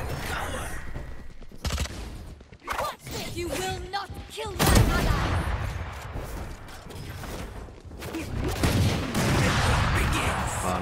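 Gunfire in the shooter game Valorant: sharp bursts of shots and clattering mechanical clicks over a busy, dense mix, with a loud cluster of impacts near the middle and scattered shots around it.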